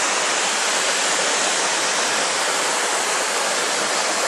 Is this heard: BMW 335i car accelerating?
no